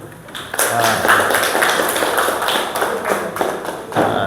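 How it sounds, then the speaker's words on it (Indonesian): A classroom of students claps their hands after group presentations, a brief burst of close applause with a few sharp taps and thuds. "Tepuk tangan dulu."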